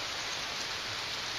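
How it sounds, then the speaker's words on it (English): Rain falls on a hiking trail near waterfalls as a soft, steady hiss of drops, faint and continuous, with no other sounds. "it started raining"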